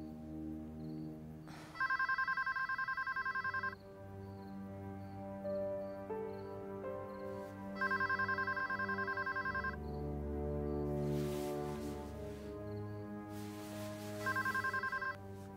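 A telephone rings over a call to a hotel room, sounding in three bright, repeated bursts separated by pauses, with music running underneath throughout.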